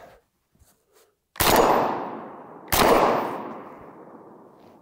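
A cheap semi-auto bullpup shotgun fires low-power birdshot: two loud, close blasts about a second and a half apart, each with a long ringing decay, with no talking.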